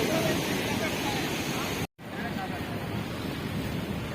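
Sea waves washing onto a Goa beach near a fishing boat, a steady broad surf roar mixed with gusting wind noise on the microphone, broken by a brief silent gap midway.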